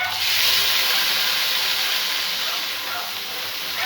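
A steady, loud sizzling hiss as a little water is splashed into a potato and sweet corn curry frying in a pan, close and continuous throughout.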